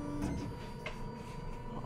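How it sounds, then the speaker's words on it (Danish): A laser cutter starts engraving and cutting a project piece, giving a steady mechanical hum with faint tonal whine and a few soft bursts of motor activity throughout. "lasercutteren vil med det samme gå ind og begynde at gravere og skære det, der skal skæres"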